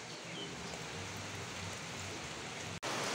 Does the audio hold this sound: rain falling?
yes